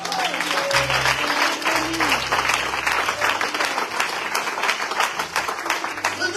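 Congregation at a Christian healing service applauding steadily to acclaim the Lord, a dense wash of many hands clapping throughout, with a sustained organ or keyboard tone and occasional voices underneath.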